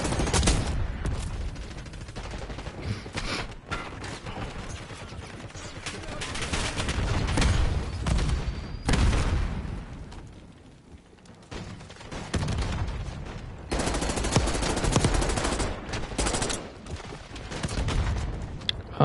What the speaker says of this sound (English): They're shooting rockets.